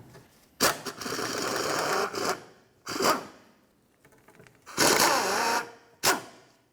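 Power tool removing underbody shield mounting bolts on a 2005-2012 Volvo S40, in four separate whirring bursts of varying length with quiet gaps between, close and loud.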